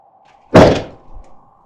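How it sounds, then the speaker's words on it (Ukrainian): A single heavy bang against a door, loud and close, followed by a short dull after-thud, used as a horror story sound effect during a blizzard siege, with a faint steady hum beneath. "Щось грюкнуло у двері."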